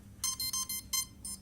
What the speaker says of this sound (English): It'll make that beep sound.